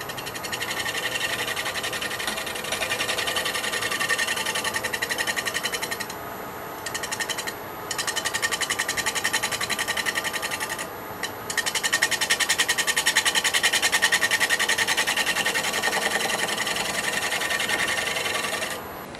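A wood lathe turning a bowl with a carbide cutter making light cuts, a steady high-pitched rapid buzzing whir that runs almost continuously with brief dips, close and without talking.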